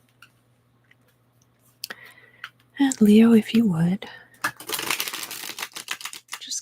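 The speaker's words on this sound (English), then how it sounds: "So now I'm going to shuffle for Leo." Tarot cards being shuffled during a whispered reading, heard as a brief run of dense papery riffling and crisp flicks near the end, after soft speaking.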